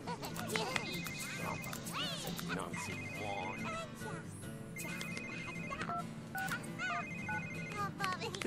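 Telephone in The Sims 3 video game ringing in repeated bursts of electronic trills, layered over game music and sound effects while a person talks throughout.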